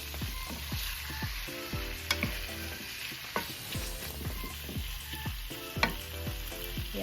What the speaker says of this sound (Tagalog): nailagay ko na din yung karne. Golden brown ko lang siya.